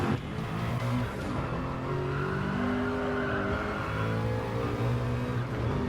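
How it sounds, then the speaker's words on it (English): Nissan R92 Group C race car engine in a racing video game, a steady loud drone with shifting harmonic tones as it accelerates, continuous and close throughout. "going in with the Nissan R92. This is the heaviest car,"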